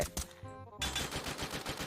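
A short burst of Free Fire video game gunfire: a couple of sharp shots, a brief lull, then rapid automatic fire rattling on to the end.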